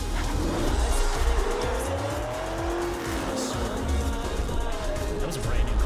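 A Corvette C7 roars through a race in Forza Horizon 3, its engine droning loud and steady, with tire squeal and rising and falling engine pitch through turns and someone talking faintly underneath.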